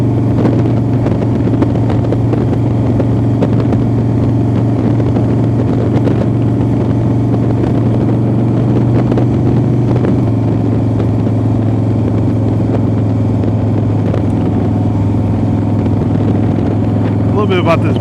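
A 2016 sport bike being ridden, its engine a constant droning hum buried under heavy wind rush, with someone talking over it.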